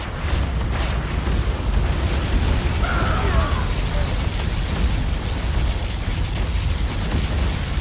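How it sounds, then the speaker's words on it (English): Particle cannon blast in Command & Conquer Generals Zero Hour, a sustained loud roaring rumble of a massive energy beam and explosion that holds steady across the whole stretch. "Particle cannon activated."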